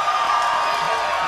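A concert audience at a show during MTV Campus Invasion 2006 lets out a brief, loud wash of cheering and whooping that fills the space.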